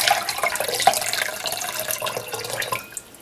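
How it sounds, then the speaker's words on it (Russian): Water is poured into a container for a simple sink-or-float experiment, a steady watery splash and trickle running close by for a few seconds with no talk over it. "нам нужно налить половину водички сюда"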